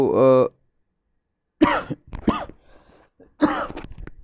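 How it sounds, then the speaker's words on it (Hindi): A single sharp cough opens, followed after a pause by someone talking. "सॉरी सॉरी यार थोड़ा सा खांसी आ जाती है।"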